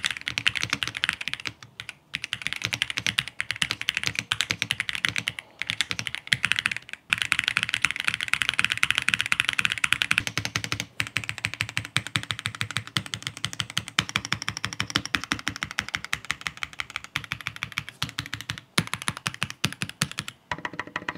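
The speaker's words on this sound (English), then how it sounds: "I left the keyboard stock, and this is what it sounds like." Continuous typing on a stock Pulsar Xboard QS keyboard, a dense, steady stream of close, crisp key clacks with deep thocky undertones and brief pauses, heard alone without speech.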